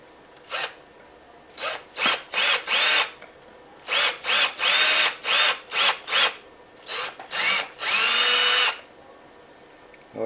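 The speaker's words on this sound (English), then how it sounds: "always want to be careful drilling" A power drill bores into a plastic Game Boy Color toy shell with a 3/16 bit, sounding as a run of short, loud whirring bursts separated by brief pauses, close up with no talking.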